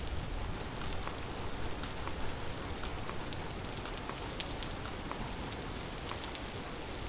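Steady rain falling in the video game Vintage Story, a dense even hiss of drops on surfaces with faint scattered patters, continuous and moderately loud with no voices.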